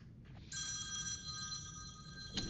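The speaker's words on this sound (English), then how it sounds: "Oh, I'm getting a phone call." An indoor telephone rings once, a steady bright electronic tone lasting about two seconds, heard alone at moderate loudness.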